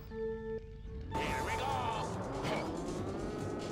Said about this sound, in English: I always listen to the engine to tell whether I'm at max velocity.